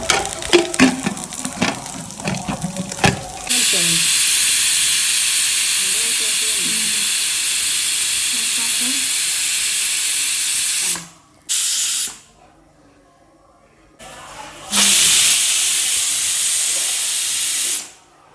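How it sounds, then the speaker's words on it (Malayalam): Loud, steady hissing of steam escaping from a pressure cooker, running in long bursts with a couple of abrupt pauses, after some brief clattering at the start. "കുക്കർ അടച്ച് വെച്ചിട്ട് ഒരു 3 വിസിലടിച്ചിട്ട് കുക്കർ ഓഫ് ചെയ്യാം"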